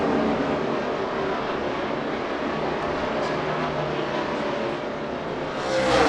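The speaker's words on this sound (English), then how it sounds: "Biffle's car looks like it rolls into the corner really, really well, but Newman's car is much better from the middle off" NASCAR stock cars race at the 2011 Lenox Industrial Tools 301, a steady, loud, dense engine roar filling the whole stretch, swelling as cars pass near the end.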